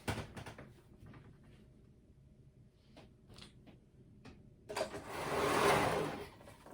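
Near the end a sewing machine whirs up in a short run, sewing a hood onto a cardigan bodice, after several seconds of quiet handling clicks and soft knocks.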